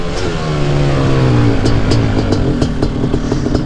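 A jetted quad's engine runs steadily near at hand, its rough idle broken by a few quick throttle blips that sharpen the exhaust note before it settles back.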